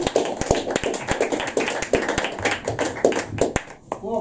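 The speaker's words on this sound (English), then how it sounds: "Applause, please" Audience applause for a poem at a poetry evening in a pub, brisk rhythmic clapping from a small crowd, close and steady, fading near the end as a voice comes in.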